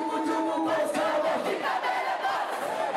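A packed crowd at a music event roars continuously, a dense, loud wall of massed voices close by with no breaks.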